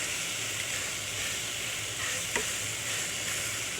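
Eggs frying in a pan on the stove, a steady close sizzle and hiss throughout with a faint brief clink partway through.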